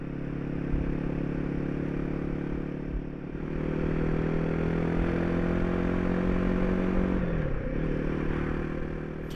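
A Royal Enfield Himalayan 450 motorcycle is ridden on the road, its engine a loud, steady drone mixed with wind rush. The pitch eases down briefly near the end, then settles again.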